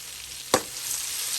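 Butter and oil fry in a pan: a soft, steady sizzle with one brief, louder burst of crackle near the start, and no talk.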